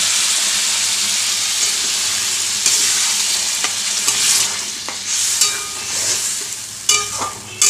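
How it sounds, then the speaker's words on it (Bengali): Hot water hits a pan of frying spices for a thin potato and boal fish curry, a loud hissing sizzle that rises in bursts with stirring scrapes and clatter. "এবার আমি কিছুটা গরম জল করে রেখেছিলাম, গরম জলটা দিয়ে দেব।"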